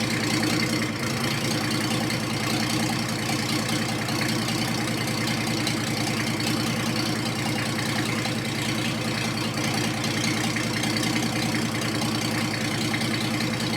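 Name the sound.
1954 Ford F600 truck engine starting and idling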